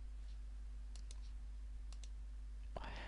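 A single computer mouse click lands on an OK button in a quiet room, followed by a couple of faint clicks over a low steady hum.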